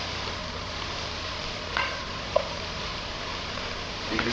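Chopped onions sauté in avocado oil in a pan for a seafood jambalaya, giving a steady, moderate sizzle with a couple of light utensil clinks partway through.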